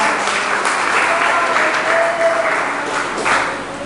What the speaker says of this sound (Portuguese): Posso louvar a Deus com palmas